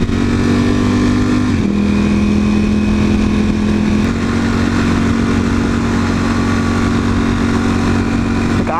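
A loud motorcycle runs close by with a strong steady engine drone whose pitch shifts a couple of times, staying loud and dominant throughout with no voices.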